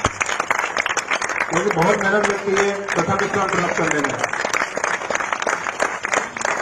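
Continuous crowd clapping at an athletics prize announcement in Jammu for the first-place finisher, a broad even patter running throughout while someone speaks loudly over it through the middle.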